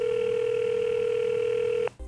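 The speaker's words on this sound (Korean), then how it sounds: "전화로 문의를 해봤습니다." A telephone call tone heard over the line, one steady continuous electronic tone lasting nearly two seconds before it cuts off abruptly into faint line noise.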